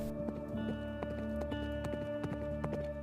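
Horse hooves gallop in a quick, steady clip-clop rhythm of repeated sharp strikes over a constant low droning background, close and loud with no talk.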